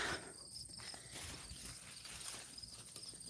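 Grasshoppers jump and fly through a bean patch in a garden, making a dense, crackly buzz of wings and small pops along with footsteps through the plants.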